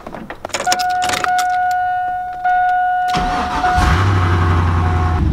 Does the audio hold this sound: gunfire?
no